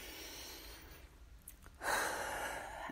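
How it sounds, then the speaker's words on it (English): Slow, deep cleansing breaths during a throat-chakra balancing exercise: a soft, quiet inhale followed by a stronger, breathy exhale, close and alone with no talk. "Take three deep cleansing breaths."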